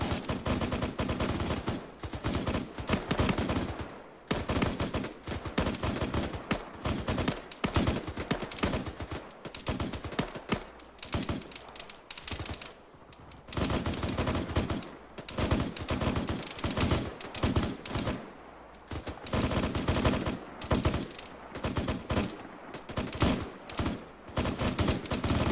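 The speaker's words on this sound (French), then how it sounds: "Il y a de la balle perdue par ici." Gunfire rattles through an ArmA 3 military simulation match, with dense bursts of automatic fire and repeated volleys of shots, loud and continuous with only brief pauses.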